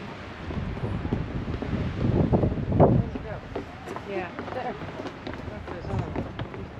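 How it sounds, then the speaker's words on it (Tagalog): Wind gusts roar steadily across the microphone outdoors on a mountain at the Banff Gondola, swelling for a moment midway, while voices talk faintly underneath. "Mahangin."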